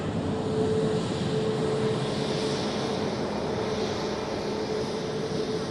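Hainan Airlines Airbus A330 on the runway at Manchester Airport, a steady, loud broadband jet roar held throughout with no breaks, heard from a distance outdoors.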